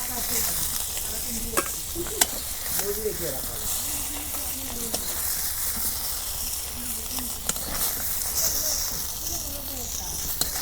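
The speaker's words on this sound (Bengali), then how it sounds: "এক পিঠ মাছ ভাজা হয়েছে, আর এক পিঠ ভাজা নিলে উল্টে দিই।" Fish frying in oil in a pan for a village-style fish dish, a steady soft sizzle and hiss running throughout with a few sharp clinks and scrapes of stirring, while someone talks quietly in the background.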